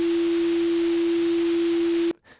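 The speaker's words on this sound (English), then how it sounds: "that's a sine wave" A steady pure sine wave test tone holds at one pitch for about two seconds, then cuts off abruptly, leaving a faint trailing noise.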